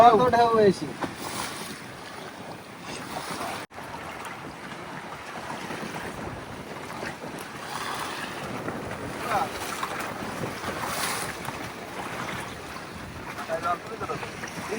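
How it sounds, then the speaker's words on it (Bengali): Strong wind gusting over the Matla river around a small fishing boat, a steady broadband roar with rustling buffets continuing throughout, near and fairly loud, with brief voices early on. "প্রচুর হাওয়া"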